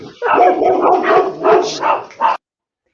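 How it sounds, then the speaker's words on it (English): Several dogs barking and yipping in a rapid, overlapping chorus, loud and close, with some whimpering mixed in. "In case anyone wants to know what it sounds like to live with many dogs."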